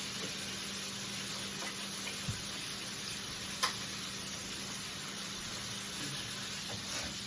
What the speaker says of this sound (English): So my chicken's frying.